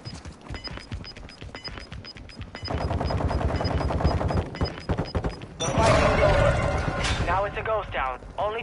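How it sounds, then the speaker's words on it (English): Automatic gunfire in a PS4 shooter, bursts of rapid shots rattling on and off at close range, growing louder toward the end, with a player's voice talking over it. "You got somebody shooting right above him"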